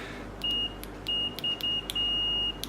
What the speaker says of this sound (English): you've got a nice latching buzzer on there, so yeah, that does the job quite nicely